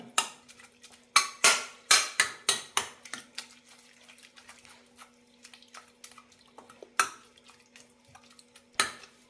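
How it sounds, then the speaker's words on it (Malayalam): Cooked horse gram being mashed in a metal pan, with a series of sharp clanks and scrapes of a utensil against the pan, loud bursts early then sparser knocks, alone with no talk. "മുതിര നന്നായി വെന്തിട്ടുണ്ട് ഇതൊന്ന് ഉടച്ചെടുക്കാം"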